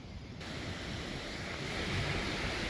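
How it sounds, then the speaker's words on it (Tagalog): Strong wind in the UK buffets the microphone in a continuous loud roar, rushing and rumbling without pause. "Lakas ng hangin"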